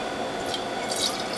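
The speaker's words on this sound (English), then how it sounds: "Now we'll fill some bottles." Fresh vegetable juice of dandelion, French sorrel and carrot pours steadily into bottles, a continuous liquid trickle with faint dripping over low background noise.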